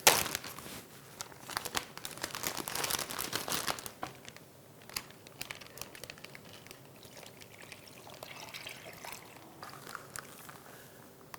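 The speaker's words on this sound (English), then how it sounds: "Let's get it in the bag here." Marinated teriyaki beef jerky strips go into a plastic bag with close, crinkling plastic rustles and wet slides, busiest in the first four seconds and lighter and more scattered afterward.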